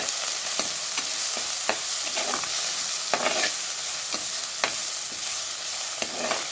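Tomatoes sprinkled with salt sauté in a pan for a dried prawn fry, giving a steady close sizzle broken by regular sharp scrapes and taps of a stirring spoon.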